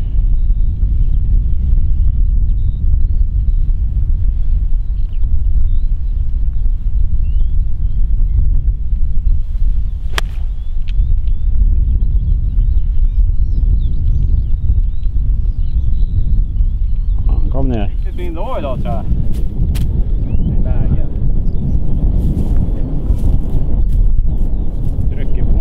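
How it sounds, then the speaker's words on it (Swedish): Strong wind and rain sweeping across a golf course, a loud steady roar with buffeting gusts on the microphone throughout, and people talking over it. "Blåst och regn."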